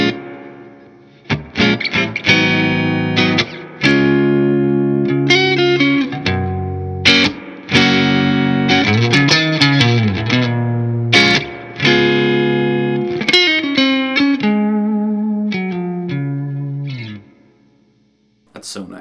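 An electric guitar played through the clean channel of a Marshall JCM 900 amplifier with a replacement reverb tank, reverb set high, rings out in strummed chords and melodic runs, loud and close, with a lush reverberant tail.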